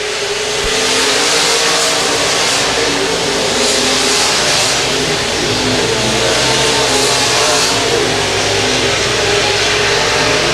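Dirt modified race car engine screaming at full throttle and bouncing off the rev limiter down the back straightaway at I-35 Speedway, loud, sustained and buzzing with other cars roaring alongside.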